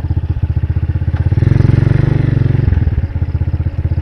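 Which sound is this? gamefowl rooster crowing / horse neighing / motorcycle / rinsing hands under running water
motorcycle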